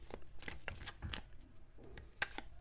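Tarot cards are handled and removed one by one in a series of close, crisp papery slides and flicks at an uneven rhythm, with no talking.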